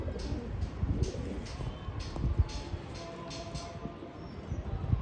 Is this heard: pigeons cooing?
yes